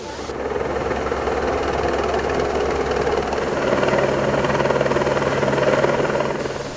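A steady, loud helicopter engine drone with a low rhythmic thrum, continuous throughout, during a rescue exercise.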